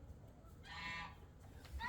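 Peahens give a nasal, honking call, one clear call in the middle and a fainter one at the end, heard close but quiet against a low background hum.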